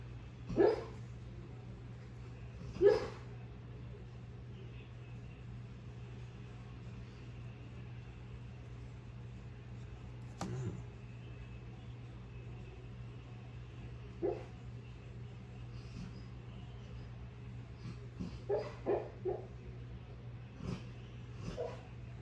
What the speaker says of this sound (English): pardon the noise, dog's decided that it wants to sleep right behind me today.